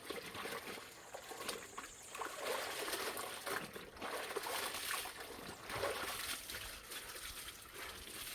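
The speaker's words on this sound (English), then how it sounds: "Water going to run." Running water trickles and splashes outdoors while clothes are hand washed, a continuous soft watery hiss with small splatters and gentle swells, fairly faint, with no talking.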